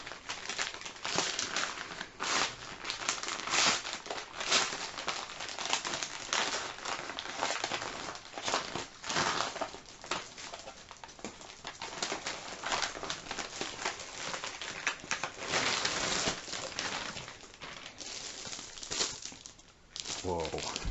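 Crinkling plastic and paper as a bubble wrap envelope is torn open and a package of drawing paper is handled, steady close rustling throughout with a person talking over it.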